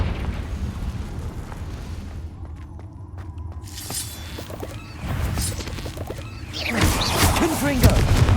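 Blasting-spell explosions from a Hogwarts Legacy fight, arriving as rough crashing bursts over steady combat noise, with a loud blast building near the end and voices talking during the action.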